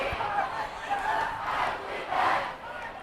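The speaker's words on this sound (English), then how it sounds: "looks like the Linn-Mar crowd is getting everybody else riled up, saying, I believe that we will win" Rhythmic waves of crowd voices at a high school football game between Linn-Mar and Ottumwa, a stadium crowd chanting "I believe that we will win" in rising and falling pulses heard at a distance.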